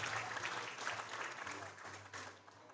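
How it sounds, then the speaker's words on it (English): Applause from the crowd at a powerlifting state championship greets a referee being introduced, a faint, distant clatter of clapping that slowly fades over a few seconds, with a low hum underneath. "Give her a big round of applause."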